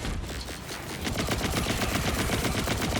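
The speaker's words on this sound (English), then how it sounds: "This is one of the guns that needs to charge before it starts firing." Charging gun in Borderlands 4 spraying rapid automatic fire, a dense continuous rattle of shots that builds slightly in loudness and runs steadily for a few seconds with no talk.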